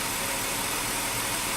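A 2003 Ford Taurus engine idles smoothly after a cold start, a steady, even broadband hum with no shaking, close and continuous with no talking.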